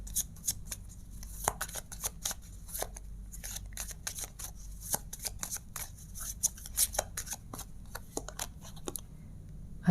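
Tarot cards being shuffled and handled during a love reading: a steady run of crisp, close card riffles and snaps, with no talking.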